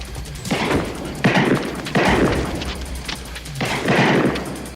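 Gunfire from the 1988 film Mississippi Burning, sustained loud volleys of shots in roughly three heavy waves with booming low thuds, fairly close and dense.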